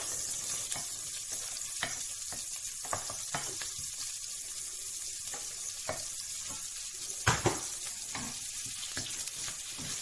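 Garlic stir-frying in a pan for Thai-style shrimp fried rice, a steady close sizzle broken by scrapes and clacks of a spatula against the pan, with no talk.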